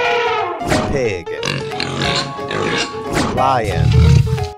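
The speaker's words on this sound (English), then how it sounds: "Pig." A cartoon pig grunts and oinks in short, rough snorts mixed with animated voices. The low grunt swells loudest near the end.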